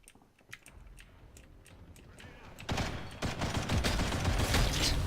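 Rapid gunfire in the video game G.I.T.S.: First Assault, at first a thin string of distant single shots, then a loud sustained burst of automatic fire that keeps going to the end.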